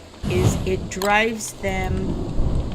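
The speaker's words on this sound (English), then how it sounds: "Oh, see, there's the rain." Rain and thunder in the survival video game Don't Starve, a rumbling storm bed running steadily throughout under someone talking.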